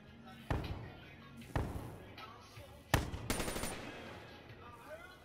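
Shotgun blasts in a video game: three sharp, loud reports spaced about a second apart, with a further burst of shots near the end, heard over game noise and with voices talking.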